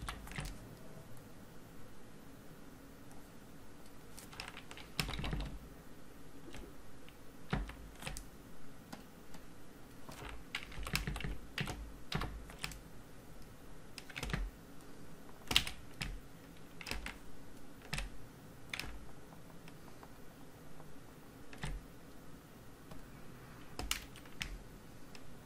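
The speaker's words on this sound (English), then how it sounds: "we can tweak with the Alt and arrow keys a bit" Computer keyboard keys tapped while modeling a porcelain cup in Rhino, mostly Alt and arrow keys, giving sparse irregular clicks and short bursts of taps over a quiet room, close and fairly faint.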